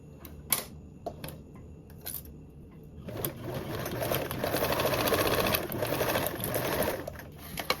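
A sewing machine stitching a PackMate toiletry bag: a few isolated clicks and taps, then a near, rapid run of steady stitching that swells for several seconds before tapering off.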